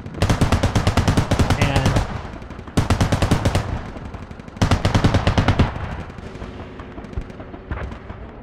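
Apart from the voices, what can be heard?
BTR firing at infantry, from a military simulation video game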